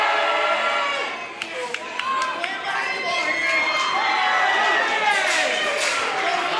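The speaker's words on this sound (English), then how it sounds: "This crowd certainly loves him now." A basketball arena crowd roars and cheers steadily, a dense wall of voices with sharp whoops and shouts poking through, loud and sustained throughout.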